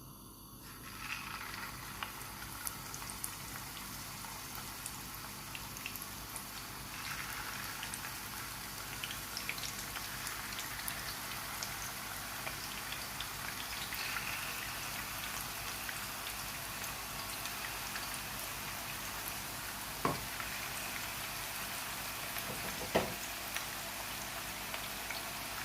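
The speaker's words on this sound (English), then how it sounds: "I'm just going to go ahead and fry these now" Lamb Gola kebabs fry in oil with a steady, soft, hissing crackle that stays even throughout and is fairly quiet, with a couple of brief pops near the end and no talking.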